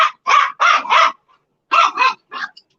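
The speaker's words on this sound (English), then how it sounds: "you hear them dogs?" Several dogs bark outdoors in two short bursts of three to four loud, close barks each, separated by a brief pause, with no talking over them.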